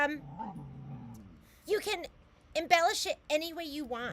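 A pet dog whimpering and making drawn-out whining vocal sounds, close and moderately loud, in bursts between stretches of a person talking.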